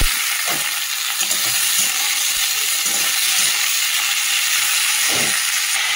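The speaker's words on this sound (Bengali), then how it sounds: "পেঁয়াজ দিয়ে আর বিট আলুটা ভাজবো" Beetroot and potato frying with onion, nigella seeds and green chilli, a steady close sizzle and hiss with occasional faint stirring scrapes, no talking.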